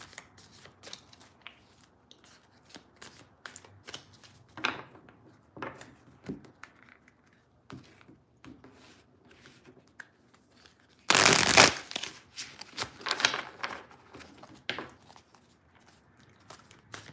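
Tarot cards being shuffled at close range in a living room, with repeated soft riffling and a loud flurry of card flutter near the end.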